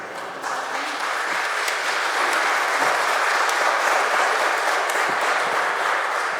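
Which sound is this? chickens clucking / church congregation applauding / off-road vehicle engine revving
church congregation applauding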